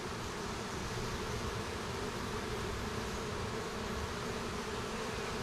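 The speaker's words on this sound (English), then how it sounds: "Number of bees looks good." Honey bees buzzing at a hive, a dense continuous drone of many wings held close and steady with no pauses.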